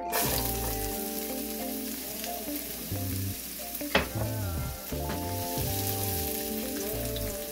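Carrots sizzling in an oiled pan, a loud, continuous crackling fry close by with occasional stirring clatter, heard alone without speech.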